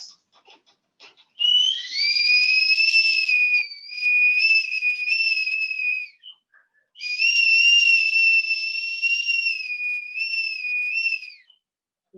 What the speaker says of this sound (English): The insistent tapping on the door and the windows and the whistling.